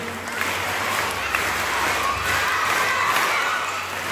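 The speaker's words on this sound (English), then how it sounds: "Clap children, again claps." Children at a school investiture ceremony clap and cheer together in a dense, steady wash of applause and shouting that fills the whole stretch without a break.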